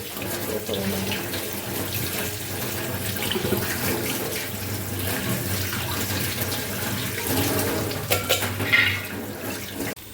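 Cold tap water running steadily over strained pasta in a sink, a continuous close splashing rush with slight shifts in flow near the end.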